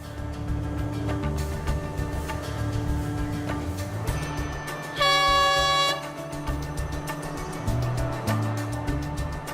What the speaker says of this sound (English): Our train bound for Badula is waiting already.